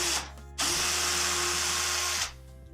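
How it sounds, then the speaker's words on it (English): An electric drill whirs loudly for about two seconds as it bores through wood, starting and stopping abruptly with motor hum before and after. "I'm going to go ahead and drill a hole all the way through"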